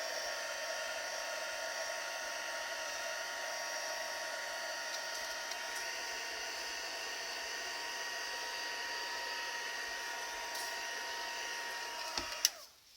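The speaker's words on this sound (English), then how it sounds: "So I'm just going to use level 1, and that should be enough to dry the ink." A heat tool running on its lowest setting to dry ink, giving a steady, close whine with a constant airy blow throughout, then a click and a brief clatter as it switches off at the end; no talking.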